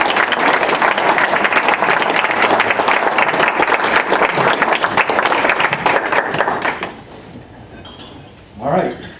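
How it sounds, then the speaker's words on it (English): Audience applause for a navy captain at a Friends of The Bard event, dense and sustained for about seven seconds before fading out, followed by a brief vocal sound at the end. "let's all please give Captain Janke and our country a big applause."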